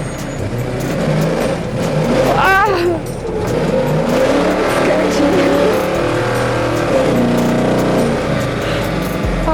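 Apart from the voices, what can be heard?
KT01 build car accelerating while being driven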